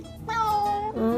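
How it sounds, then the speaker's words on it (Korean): A cat meows loudly and close by, in one long drawn-out cry with a shorter call after it, after coming home from surgery. "수리 고양이"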